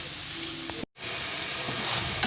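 Tomato, dried red chillies and garlic sizzle steadily in a pan for mint chutney, a close, continuous frying hiss broken by one brief dropout.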